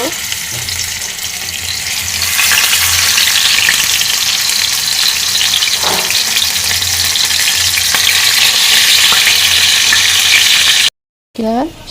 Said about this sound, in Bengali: প্রথমে মাছটাকে ভেজে নেব